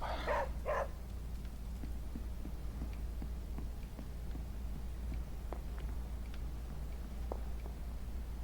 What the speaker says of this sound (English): make sure we pet our dog, level the dog up.